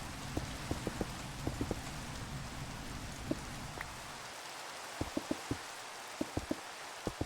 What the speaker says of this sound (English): I hate the rain. It's just annoying.